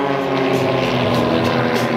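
Unlimited-category aerobatic airplane performing at the Wings Over ATL air show at Dobbins Air Reserve Base, a loud, steady propeller-engine roar filling the air without a break.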